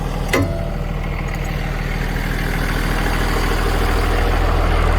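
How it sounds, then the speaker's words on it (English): A converted bus's engine idles steadily, a low, loud, continuous rumble with a brief knock near the start, running alone throughout. "It does recommend that the bus be turned on, so it's going to get a little bit noisy"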